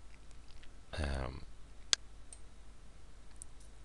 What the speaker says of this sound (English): clicking on the logo always brings you back home